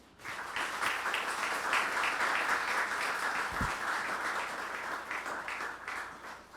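An audience welcomes a guest with sustained applause, a dense steady roar of many hands clapping together that runs the full length without a break.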